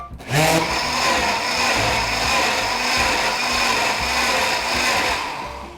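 A blender pureeing carrots and pumpkin, kicking on with a sharp start and then holding a steady, loud whirring roar that pulses slightly as it runs.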